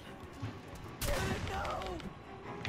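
A sudden gunshot rings out in the Friday the 13th video game, a sharp crack with a short echoing tail, close and fairly loud, while a player talks over faint background game sounds.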